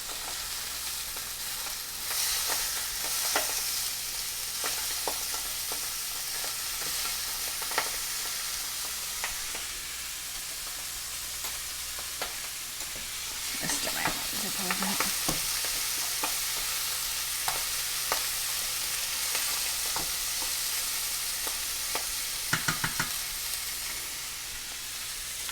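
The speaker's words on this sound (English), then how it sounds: "let those sear for another minute or 2, and then we'll remove the sausages from the skillet" Sausages sear in a skillet with a steady, moderate sizzle and crackle, broken by occasional pops, scrapes and a brief louder rustle of turning, nearby and without speech.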